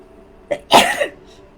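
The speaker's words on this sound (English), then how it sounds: "I'm sneezing like crazy today." A single sharp human sneeze, preceded by a brief inhaled catch, close and loud against a quiet room.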